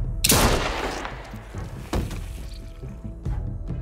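Gunfire in the video game The Walking Dead: A New Frontier: a loud opening shot followed by a few more sharp bangs and thuds over about four seconds.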